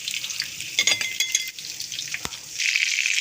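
Chapli kebabs fry in a pan with a steady bright sizzle, rising louder near the end, broken by a few soft clinks and stirring touches; no one speaks.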